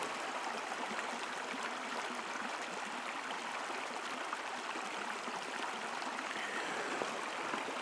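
A brook flows at Coal Creek camp in Apache-Sitgreaves National Forest, Arizona, giving a steady, close, even rush of running water with no voices.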